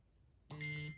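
A phone notification beep sounds once, a single short electronic tone, lasting about half a second and clear against a quiet room.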